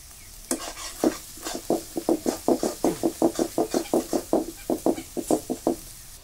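Spoonful of chilli paste with whole red chillies frying for an Assamese village-style duck meat curry, heard as steady rhythmic stirring strokes scraping a pan over a soft sizzle, close and regular.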